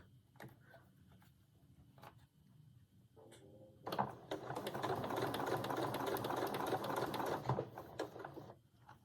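A home sewing machine stitches an Isabella dress, first in short hesitant bursts and clicks, then a long steady whirring run of rapid needle strokes, close and quiet in a still room.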